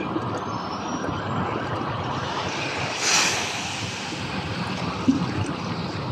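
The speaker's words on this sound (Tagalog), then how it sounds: "Medyo malakas ang hampas ng alon ngayon." Surf rumbles continuously with a louder wave breaking midway, mixed with wind buffeting the microphone outdoors by the shore of Manila Bay.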